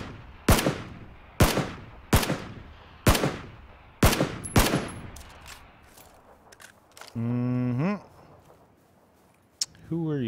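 Gunfire in the PUBG battle royale game, six loud, evenly spaced single shots with echoing tails, followed by a short rising tonal sound and faint clicks; a voice talks in the background.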